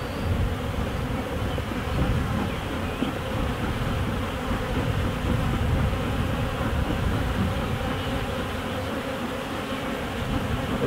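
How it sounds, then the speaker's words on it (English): Honey bees drone around an open hive in an English apiary, a dense, continuous buzzing swarm close by with no pauses and no one speaking. "Just smoke them off, them bees"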